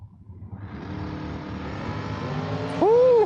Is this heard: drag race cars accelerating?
yes